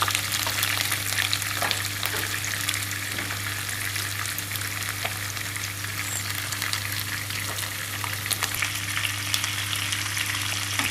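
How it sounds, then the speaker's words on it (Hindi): Qeema-stuffed bitter gourds (karela) sizzle steadily in hot oil, a dense, continuous frying crackle with occasional pops and stirring, close and fairly loud throughout with no talking. "ये थोड़ा सा जो तीसरी साइड है वो भी इसको पलट के फिर इनको अच्छी तरह से फ्राई कर"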